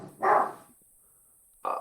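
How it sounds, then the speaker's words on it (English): A dog barks loudly and close, one harsh burst near the start, then a quieter stretch before a second bark cuts in at the very end. "Got some doggos on the cast."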